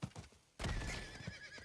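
A horse in the Diablo 4 video game trots with soft hoof clops, then lets out a loud, close whinny that carries on over continued galloping.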